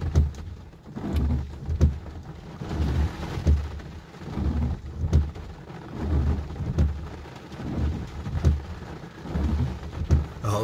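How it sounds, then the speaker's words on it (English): Wind-driven rain and rumbling thunder during a storm in New Milford, Connecticut, with low booming rolls rising and falling over steady rain on surfaces throughout, fairly loud and close. "Look at the wind, look at the rain just now flying sideways here."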